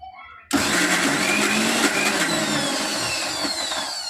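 A kitchen mixer grinder crushing country-style gongura chutney with chillies: a loud, steady whirring motor grind that starts abruptly and runs continuously, with a voice talking faintly beneath it.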